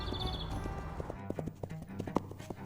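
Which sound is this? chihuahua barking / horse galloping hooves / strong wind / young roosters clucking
horse galloping hooves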